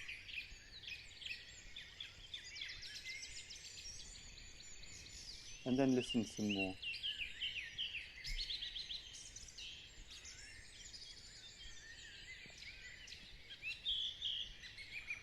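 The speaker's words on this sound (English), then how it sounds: "And just quietly observe the sounds of the birds." Birds sing and chirp outdoors in a natural setting, faint high twitters scattered throughout, with a person speaking softly over them for a moment.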